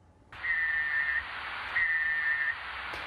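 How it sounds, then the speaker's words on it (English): Night parrot call recorded in Australia: two clear, drawn-out whistled notes, each lasting under a second and separated by a pause, sounding fairly close over steady background hiss. "Now, that is the sound of the night parrot,"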